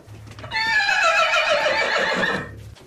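A horse lets out a single long, loud whinny that rises and trails off over about two seconds, with faint background noise before and after.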